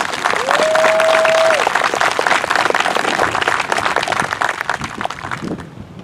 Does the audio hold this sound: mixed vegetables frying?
no